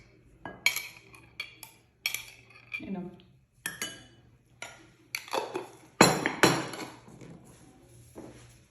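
A spoon clinks and scrapes against a bowl as pizza sauce is ladled in, a series of separate light taps and knocks spaced a second or so apart, close up and fairly quiet.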